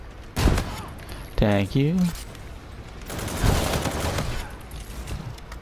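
Automatic gunfire in a shooter video game, a couple of loud bursts separated by gaps, with a person talking briefly between them.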